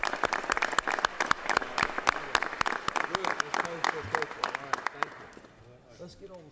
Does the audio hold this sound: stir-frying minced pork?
no